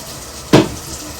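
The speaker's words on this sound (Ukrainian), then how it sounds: "Капусточка проварилася і її треба відкинути на друшлячок, щоб вона гарно стекла." Boiled cabbage tipped into a colander gives one short, loud splash of draining water, lasting a fraction of a second in an otherwise quiet kitchen.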